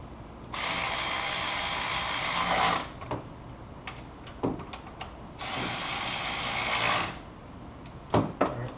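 A power tool drives the two upper bolts on a G8 GT radiator and condenser, two whirring bursts a few seconds each, with clanks and rattles of metal between them and no voices.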